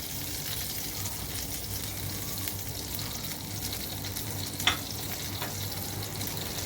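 Chickpeas fry with spices in a pan for khoya chanay, making a soft, steady sizzle with a single sharp clink partway through and no voices.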